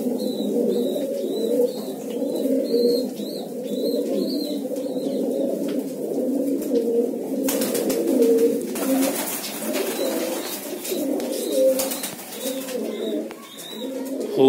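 Domestic pigeons coo repeatedly in soft, rhythmic bursts close by, accompanied by occasional chirps and brief rustling or fluttering.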